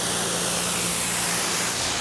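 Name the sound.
water spray rinsing a Porsche GT3 RS during detailing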